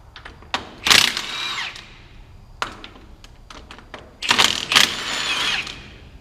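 An impact wrench rattles bolts loose from the hydraulic top housing of a Ford 5610 tractor's three-point hitch: two loud buzzing bursts, each about a second long, separated by quieter clinks and taps of tools.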